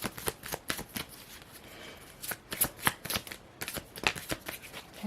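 A tarot deck being shuffled close by, continuous rapid papery riffles and card slaps in uneven bursts, fairly loud and with no talking.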